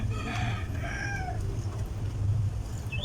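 Chickens cluck and call close by, several short bursts over a low, steady background rumble, with no talking.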